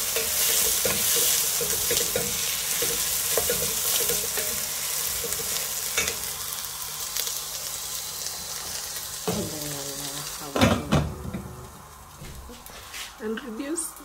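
Vegetable noodles fry and get stirred in a pan with steady broadband sizzling and scraping, loud and continuous, ending in a few sharp clanks of the utensil against the pan.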